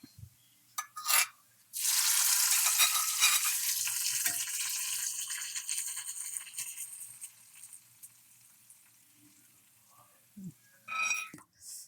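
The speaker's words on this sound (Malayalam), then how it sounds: "ഇനി നമുക്ക് ഇത് കറിയിലേക്ക് ഒഴിക്കാം." A hot tempering of fried shallots, chopped chillies and curry leaves is poured into curry, setting off a sudden sizzling hiss that fades over several seconds, framed by brief clatters before and after.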